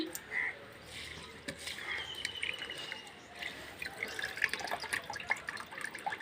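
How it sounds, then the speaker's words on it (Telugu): Tap water runs and splashes while dishes are washed at a sink, a continuous watery hiss with clinks and drips, moderately close; birds chirp faintly in the background. "కొంచెం అంట్లు ఉన్నాయి కడగాలి"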